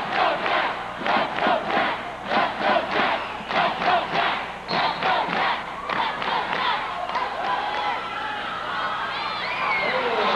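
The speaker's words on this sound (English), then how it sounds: "You will hear a huge cheer go up from the side of the gymnasium that we are on." A large crowd in a high school gymnasium at a wrestling match roars and cheers loudly in repeated surges, with thuds and babble, the shouting gradually settling into a steady hubbub.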